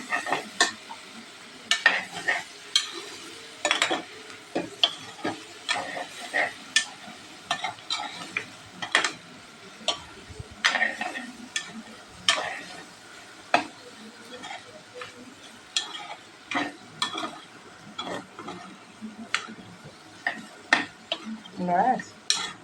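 Pork with slit chillies is stirred in a pot, a steady run of close spoon scrapes and clinks against the metal over a soft sizzle, with occasional quiet speech in the background.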